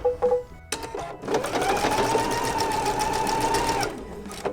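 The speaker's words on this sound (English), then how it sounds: "And now we're just stitching that same 1/4 inch seam" A sewing machine stitches a quarter-inch seam through quilt fabric, a steady close-up mechanical whir that starts after a few clicks and runs evenly for several seconds before stopping.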